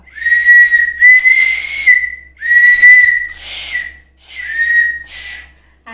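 A shrill toy whistle blows in three bursts of two blasts each, loud and close, with a hissy airy edge and brief pauses between.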